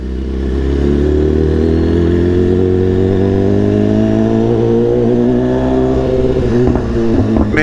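A BMW S1000RR sportbike revs hard through the streets of Manhattan, its rising engine howl loud and continuous, echoing off the surrounding buildings, with no talk.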